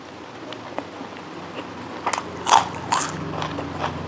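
Northern Thai naem, a fermented pork sausage, eaten with sticky rice: a few close, crisp bites and crunchy chews scattered over a quiet background, with no talk.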